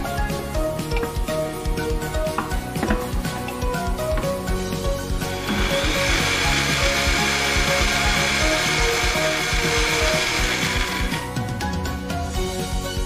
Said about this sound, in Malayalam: എന്നിട്ട് ഒന്ന് അരക്കാം.